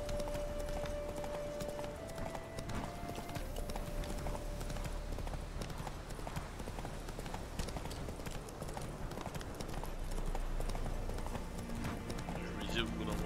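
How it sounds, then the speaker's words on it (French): Steady clip-clop of horse hooves in The Witcher 3, a brisk continuous rhythm heard under someone talking, riding down a mountain. "Descends de la montagne à cheval."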